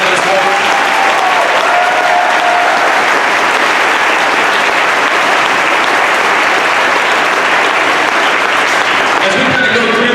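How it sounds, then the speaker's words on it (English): Loud, sustained applause from an audience at a high school football state championship celebration, steady and full throughout with no talk over it. "can we give a round of applause for this one?"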